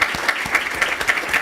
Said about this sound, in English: Give a round of applause to Michele Siqueiros and the mayor.